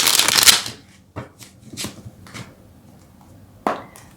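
Tarot cards shuffled up close: a loud opening riffle, then several separate softer slaps and flicks of the deck, and a final crisp snap near the end, with no talking.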